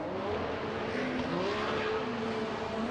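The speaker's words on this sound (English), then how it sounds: "Insert footage of car transitioning." A race car works through corners with a steady, moderately distant engine drone whose pitch rises and falls gently as it shifts and accelerates, heard without talk.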